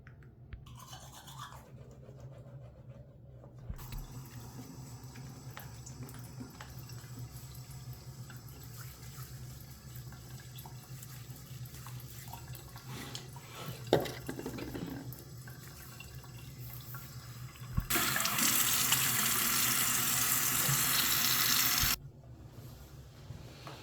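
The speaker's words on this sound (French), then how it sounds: "Je vais me débarbouiller pour commencer ma journée." Running tap water and splashing at a bathroom sink during a morning face wash, a steady low wash of water with small rubbing and splashing sounds and a louder gush of the faucet near the end.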